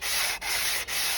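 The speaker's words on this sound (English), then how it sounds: "use a flat sanding block with a piece of 120 grit sandpaper" Steady abrasive rasping of 120-grit sandpaper on a flat sanding block scrubbed over Alfa Romeo engine metal, three long strokes with brief pauses between them, close and loud.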